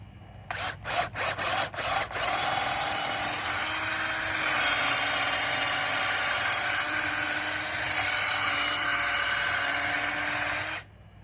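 A drill with an auger bit bores into wood for a backyard raised garden bed, opening with several short bursts before settling into one long, loud, steady grinding run that stops abruptly at the end.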